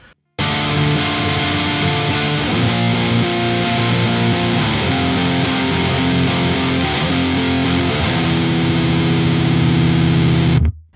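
A heavily distorted electric guitar chugs and rings through saturated high-gain chords, loud and continuous for about ten seconds before cutting off abruptly.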